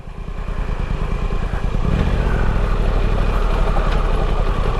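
An adventure bike's engine runs steadily off-road, a close, continuous low rumble with a clattering pulse that grows louder and fuller about two seconds in, with no talk over it.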